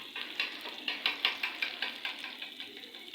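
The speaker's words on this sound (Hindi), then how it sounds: "अब हम इसको अच्छे तरीके से मिक्स कर लेते हैं।" Eggs being mixed with salt and garam masala: a quiet, regular series of rapid whisking or beating strokes in a bowl, close and steady, with no talking.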